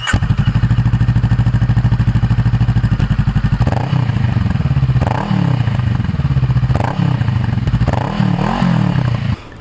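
A Honda Rebel 500 (CMX500) motorcycle fitted with a Yoshimura R34 exhaust idles with a loud, close, steady throb, then is revved several times in short blips that rise and fall.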